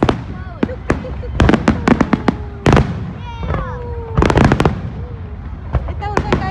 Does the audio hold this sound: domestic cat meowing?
no